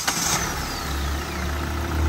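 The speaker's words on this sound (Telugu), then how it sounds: "ఇది డీజిల్ ఇంజిన్, సాధారణంగా నాయిస్ ఎక్కువ వస్తుంది, కానీ ఈ వెహికల్కి అయితే మాత్రం చాలా తక్కువ నాయిస్ ఉందండి" The diesel engine of a used second-hand vehicle idles steadily and fairly quietly. A low, even hum holds throughout, with a slight knock at the start and a small swell in level near the end.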